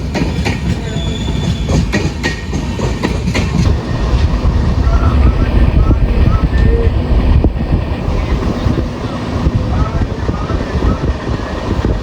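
Matsyagandha Express hauled by a WP4 locomotive passes on the Konkan Railway with loud rumbling, clattering wheels and squeals close by, mixed with wind buffeting.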